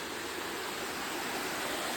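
A waterfall roars with a steady, dense rush of falling water, continuous and fairly distant, with no voices.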